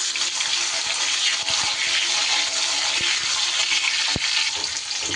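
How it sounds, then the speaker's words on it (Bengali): Mango pieces sizzle steadily in hot oil with mustard seeds on a gas stove, a dense continuous frying hiss with a few sharp stirring clicks and pops throughout. "30 থেকে 40 সেকেন্ডের মতো আমগুলো আমি একটু তেলে নাড়াচাড়া করে নেব গ্যাস কমিয়ে নিয়ে"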